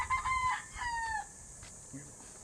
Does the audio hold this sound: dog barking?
no